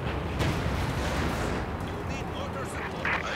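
Incoming artillery fire in Company of Heroes 2, with heavy shell blasts and gunfire rumbling through a dense battle mix while voices talk over it.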